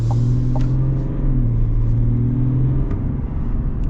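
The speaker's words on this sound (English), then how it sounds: "Gotta love that diesel." A GMC Sierra 1500 Denali truck with a Duramax diesel engine pulls away with a steady low rumbling drone that is heard from inside the cab, and a few light clicks sound over it.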